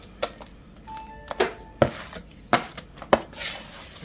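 Cornice drywall compound is mixed with a tool in a bucket, giving sharp scraping knocks and thuds at an uneven rhythm, close and fairly loud, with a faint electronic tone in the background.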